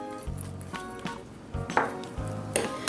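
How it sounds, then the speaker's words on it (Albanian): Cream stirred into whipped foam in a bowl for an Albanian cream-horn dessert: close, intermittent clinks and scraping knocks of the utensil against the bowl, repeating in uneven strokes. "E përziejmë mirë që të përzihet, të bëhet masë homogjene, e njëjtë"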